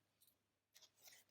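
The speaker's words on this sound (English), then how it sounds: "I'm just going to use a pair of scissors." A pair of scissors trims paper in a few quick, close snips, the last cut crisp and loudest, with no talking.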